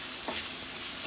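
Chicken, onions and peppers sautéing in a pan give a continuous close sizzle, with a faint stirring scrape and no voices.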